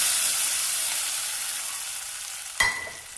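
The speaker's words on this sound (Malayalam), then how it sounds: "കടുക് വറുത്തത് കറിയിലേക്ക് ചേർക്കാം." Hot mustard seed tempering hitting a drumstick-leaf curry: a loud broad sizzling hiss that gradually fades, then a brief sharp clatter of a utensil near the end.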